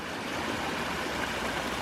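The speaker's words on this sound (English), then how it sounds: "we got water weeping over in these little corners" Water trickles and weeps over the rocks of a backyard pondless waterfall, a soft, steady, continuous wash with no breaks or voices.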